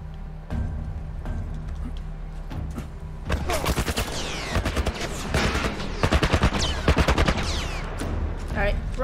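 Shotgun fire in The Last of Us Remastered, a rapid series of sharp, loud blasts and repeated gunshots in close succession, with a voice speaking over the fighting.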